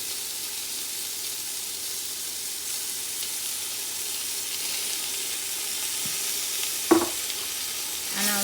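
Chow mein ingredients frying with Chinese sauce in a hot pan: a steady, loud sizzling hiss throughout, with a sharp utensil knock and scrape near the end, close and without talk.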